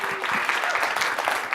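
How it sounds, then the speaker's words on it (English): Audience applause at a Digital Well-Being conference in Washington, D.C., a brisk, fairly loud round of clapping from a crowd with faint voices underneath, steady throughout. "I think that deserves an applause"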